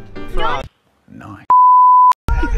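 A single loud, pure censor bleep tone lasts about half a second and masks a swear word, with talking just before and after.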